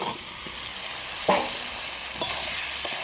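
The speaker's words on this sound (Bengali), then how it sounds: "এবার সবগুলো একসাথে খুব ভালো করে কষিয়ে নিই" Fried potatoes and spice paste sizzle steadily in a hot pan as a spatula scrapes and stirs them a few times, close and clear.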